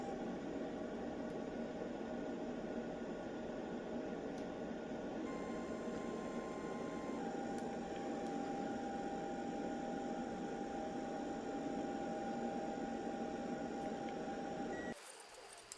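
A resin 3D printer printing an hourglass gives off a steady, even mechanical whir and hum at constant loudness, with faint tonal whines on top. It drops off abruptly near the end.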